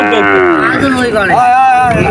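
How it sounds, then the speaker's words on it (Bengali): A Friesian heifer calf moos loudly and up close at a busy cattle market, one long drawn-out, wavering bellow that rises and falls over about two seconds, with faint crowd noise behind it. "ফ্রিজিয়ান জাতের একটা গাই বাছুর, মানে গাই মানে এটাকে বকনা বাছুর বলে।"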